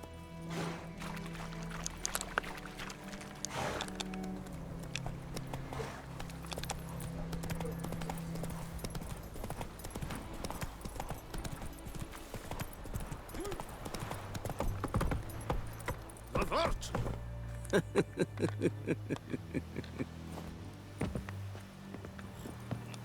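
Steady hoof clip-clop of a walking horse in The Witcher 3: Wild Hunt, over a busy game soundscape with music, growing into a quicker clatter near the end.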